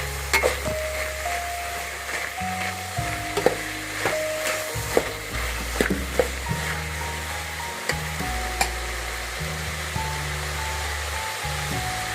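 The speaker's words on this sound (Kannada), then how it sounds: "ಫ್ರೈ ಆದಮೇಲೆ ಇದಕ್ಕೆ ಬದನೆಕಾಯಿ, ಆಲೂಗಡ್ಡೆ ಸೇರಿಸ್ತಾ ಇದ್ದೀನಿ." Eggplant and potato pieces fry in a pan with a steady close sizzle, broken by occasional sharp clinks of a utensil against the pan, under faint background music.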